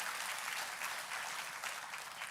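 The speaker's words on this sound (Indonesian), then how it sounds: "Tepuk tangannya yang meriah buat Tuhan kita." A church congregation at a GBI KA Semarang service claps warmly for God, a soft, distant, continuous patter of applause held evenly throughout without voices.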